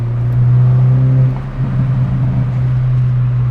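A Toyota GR Corolla drones loudly from the cabin while driving, its steady engine hum briefly dipping as a short burst of crackling exhaust pops comes through midway before the drone settles again.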